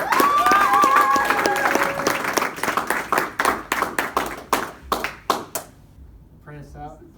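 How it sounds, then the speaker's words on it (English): An audience claps and applauds at a Hillsong College gathering, a loud burst of rhythmic clapping that thins into a few separate claps before a voice speaks at the end. "One more applause for Patrick."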